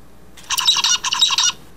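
A songbird's recorded song: one short phrase of rapid, bright, repeated chirping notes lasting about a second, clear and fairly close over a quiet background.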